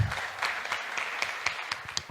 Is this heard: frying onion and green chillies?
no